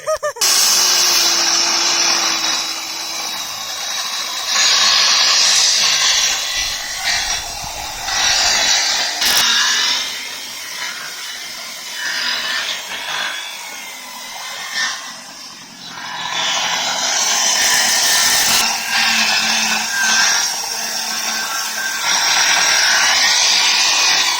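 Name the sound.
power tool cutting timber in half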